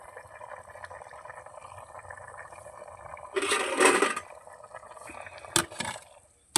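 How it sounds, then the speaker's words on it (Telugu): Chicken curry boiling hard in a pot over a wood fire in a village kitchen, with a steady bubbling simmer, a louder gurgling surge in the middle, and a few sharp clinks near the end. "కుత్తలా ఉడుకుతుంది."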